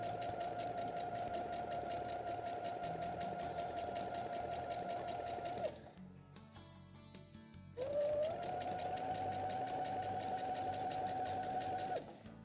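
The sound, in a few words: sewing machine stitching fabric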